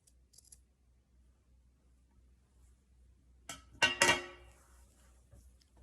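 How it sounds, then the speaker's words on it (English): Scissors cut a seam out of a fabric band, a short cluster of close crunchy snips arriving after a quiet stretch, with a faint light tap early on. "you're going to cut as close to that as possible and just cut that seam out of the band"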